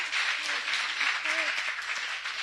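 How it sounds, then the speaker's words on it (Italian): Audience applause at a regional women's conference session, steady clapping from a seated crowd, moderately close, with voices briefly heard alongside. "credo che un applauso vada oggi anche a Franca"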